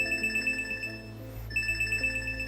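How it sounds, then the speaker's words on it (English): Electronic health notification alert chimes in repeated bright beeping bursts over a low hum, briefly pausing before resuming. "So that just sent out a health notification."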